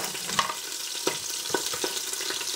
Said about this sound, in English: the garlic and onions hit the pot